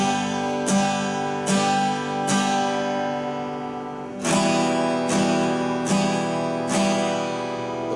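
Strummed guitar chords ring out in a steady progression, each change broken by a noticeable hesitant gap before the next strum.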